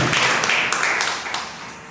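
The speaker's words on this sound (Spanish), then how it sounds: "Dale un aplauso, Señor" A church congregation applauds at a worship meeting, a dense, steady wash of clapping hands that fills the room at close range and slowly fades toward the end, with no talking over it.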